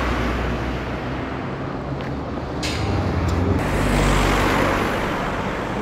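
Traffic passing on a village main road heading south, a continuous broadband rumble of cars and heavier vehicles that swells as one passes close by, with a few brief clicks and knocks.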